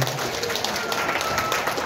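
Brief burst of crowd clapping at a political party gathering in Murang'a, dense and fairly loud, with voices mixed in under it.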